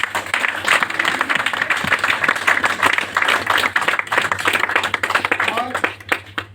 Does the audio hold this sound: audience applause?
yes